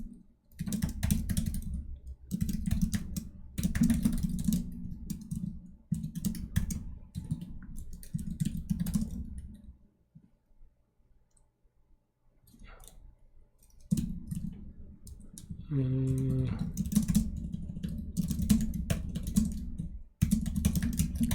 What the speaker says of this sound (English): I'm typing too slowly